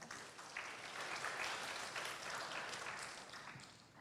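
An audience applauds steadily at an academic radiology webinar conference, a dense, even patter of many hands clapping that holds for the full few seconds at moderate loudness, with no talking.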